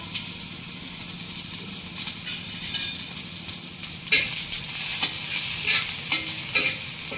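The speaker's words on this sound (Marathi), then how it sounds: "आता टाकते मी तेल टाकते तेल टाकलं का आपल्याला टाकायचं आहे कांदा हे कांदा टाकायचा आहे भाजायला" Onion hits hot oil in a heated pan for a tomato black-masala amti, giving a loud, steady sizzle and frying hiss with stirring and scraping that grow busier partway through.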